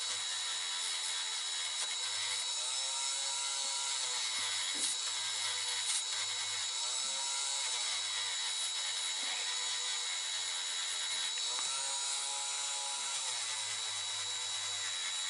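Small power drill boring holes into an Iveco Hi-Way truck scale model, a thin high whine running continuously with faint pitch dips as it bites, fairly quiet and with no voices.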